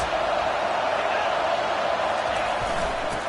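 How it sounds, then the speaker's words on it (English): A stadium crowd roars steadily in a college football video game, a dense loud wash of cheering that holds for the whole stretch without letup. "Big 3rd down as the crowd gets behind this defense."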